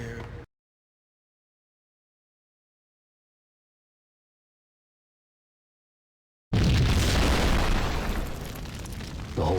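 A grenade blast in the video game Max Payne erupts loudly after a long silent gap, a dense, broad boom that sustains and rumbles on for several seconds without voices.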